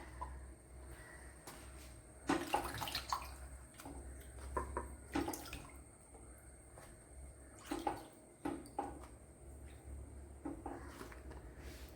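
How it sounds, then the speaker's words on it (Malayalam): Water is poured over cut brinjal pieces being washed by hand in a kitchen, producing a few short, quiet splashing bursts and trickles separated by soft pauses. "ഇതുപോലെ വെള്ളം ഒഴിച്ച് ഇങ്ങനെ ഒന്ന് കഴുകിയെടുക്കണം"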